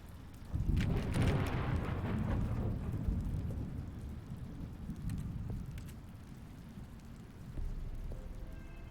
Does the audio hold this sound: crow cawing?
no